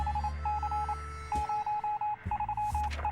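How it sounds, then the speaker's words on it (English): Morse code radio signal in the survival game 60 Seconds Reatomized: a clear, steady beeping tone in short and long pulses, broken into bursts over a low background hum. "A little bit of Morse code."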